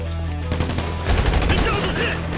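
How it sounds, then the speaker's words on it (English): Gunfire in GTA Online, a burst of rapid, loud automatic shots crackling close by for a couple of seconds, with a brief snatch of voice mixed in. "I'm getting shot from somewhere"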